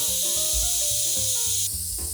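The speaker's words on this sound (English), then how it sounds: "we can go ahead and release the rest of the pressure by flipping the pressure relief valve to vent" Steam vents in a steady, loud hiss from the pressure relief valve of a Ninja Foodi pressure cooker, heard close up throughout, with faint kitchen tones underneath.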